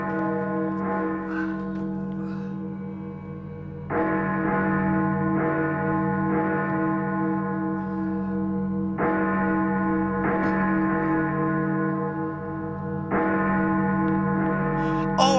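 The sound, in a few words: church bells ringing in a horror film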